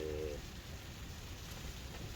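Heavy rain drums steadily on a hot tent pitched for wild camping in Scotland, a soft continuous patter close by with no talking.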